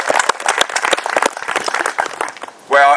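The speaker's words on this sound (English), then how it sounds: "How about a round of applause for them?" A round of applause at a veterans' groundbreaking ceremony, individual claps and crowd clapping spread across the moment before it thins out, then a voice begins speaking at the end.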